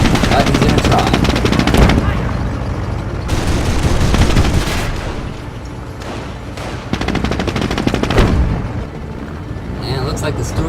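A machine gun firing at a Stuart tank in the video game Company of Heroes 2: three long, loud rattling bursts separated by brief lulls, with voices talking underneath.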